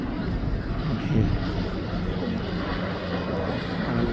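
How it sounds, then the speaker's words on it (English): A seaplane's engine near Vancouver drones in a steady, broad, continuous roar, moderately loud, with faint people talking in the background. "Here we have seaplane,"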